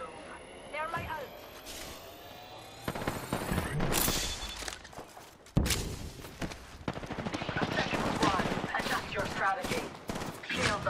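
Heavy gunfire from several teams in a video-game battle: dense bursts of automatic shots and single cracks, near and far, with louder volleys in the second half and voices talking over the fire.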